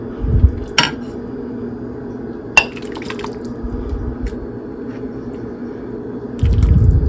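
A ladle scoops lasagna soup with campanelle noodles into a bowl, giving a few sharp clinks of metal on ceramic, some wet sloshing, and low kitchen hum, close and without talk.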